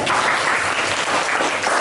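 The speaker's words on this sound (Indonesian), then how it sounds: "Kita beri tepuk tangan" A classroom claps for group 7 after they present pantun verses written on old book covers, a dense, even patter of many hands that continues throughout.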